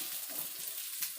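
Pumpkin flower fritters fry in a small amount of oil in a kadai, giving a steady, quiet hiss of bubbling and sizzling with faint crackles, heard alone and close.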